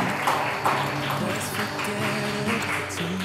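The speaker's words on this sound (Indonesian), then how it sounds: "Boleh adik-adik kasih sambutan, tepuk tangan buat Bapak Ibu yang sebelah sini" Children in an audience clapping for guests, a dense, continuous patter of small hands with faint rhythmic accents and a busy background of voices.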